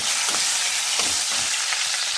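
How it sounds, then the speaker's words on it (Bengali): Potatoes frying in oil with turmeric and salt, a dense steady sizzle close up, with soft scraping strokes from stirring repeating roughly every second, and no voices. "আমি আর একটু তেল দিয়ে আলুগুলো ভেজে নেব"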